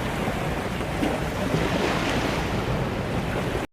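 Calm blue sea with waves washing in steadily, a continuous broadband surf roar mixed with wind buffeting the microphone, holding even for several seconds before cutting off abruptly.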